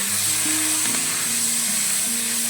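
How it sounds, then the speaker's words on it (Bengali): Continuous hiss of onions frying in hot oil for a fish curry, steady and close, with a faint tonal hum shifting in the background and no talking. "এখানেতে আমি পেঁয়াজটা ভেজে নিচ্ছি"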